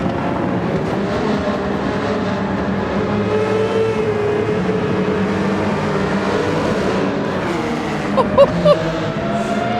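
A Gran Turismo 7 Spec III race car engine in the video game, a loud sustained high engine drone with shifting pitch running throughout, with a few brief bumps near the end.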